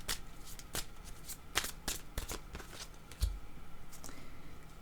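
A deck of playing cards is shuffled near and fairly quietly, with a run of crisp riffling flutters and soft slaps. No one speaks.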